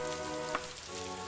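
Steady rain in the video game Daggerfall, in a tropical setting: a constant hiss of falling rain over a soft tonal game hum, with one brief louder splash partway through and no talking.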